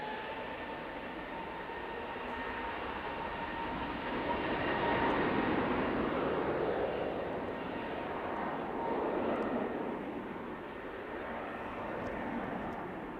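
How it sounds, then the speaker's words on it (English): An EasyJet airliner takes off from Manchester Airport, its jet engines building into a broad roar that swells to a peak midway and eases slightly, with a faint high whine riding through the rumble. "EasyJet heading off."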